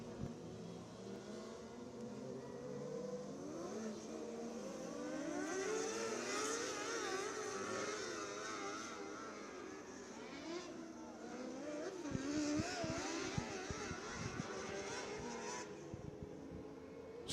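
A field of 600-class race cars in a dirt-track heat race at Action Track USA drone steadily, engines rising and falling as they pass, heard from a distance at moderate level with faint talk.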